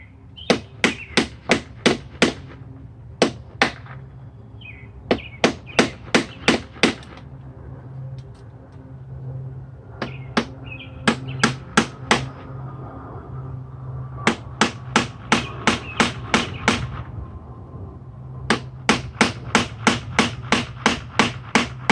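Nails are hammered into aluminum coil stock capping wooden fascia boards in sharp, loud clusters of blows, with runs of rapid strikes separated by short pauses and no talking.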